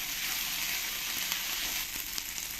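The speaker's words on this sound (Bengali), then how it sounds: "পেস্টটা দিয়ে ভালো করে আমি পেঁয়াজের সঙ্গে কষিয়ে নেবো" Ginger-garlic paste frying with onions in a pan, a loud, even crackling sizzle across a short stretch with faint stirring.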